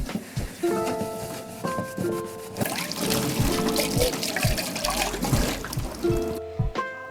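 Hot water trickles and pours into a candle container as it is rinsed, with uneven splashing and dribbling, interspersed with light clinks of the vessel, moderately close and without talk.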